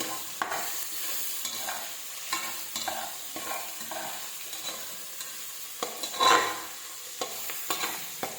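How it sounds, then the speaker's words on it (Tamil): Cashews and raisins fry in coconut oil in a pan while being stirred for ghee rice, giving a soft, steady sizzle broken by repeated close scraping strokes of the spoon, with one louder scrape partway through. "முந்திரி திராட்சை எல்லாம் நல்லா வதங்கிடுச்சு"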